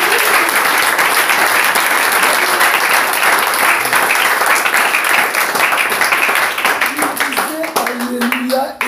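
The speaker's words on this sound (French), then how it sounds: "Applaudissons pour le Saint-Esprit." A church congregation applauds loudly and steadily for several seconds. Voices and shouts are mixed into the clapping before it thins out near the end.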